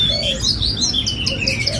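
A caged gacor songbird at a bird market kiosk sings in bright, rapid chirps and trills, close and loud over a busy background murmur.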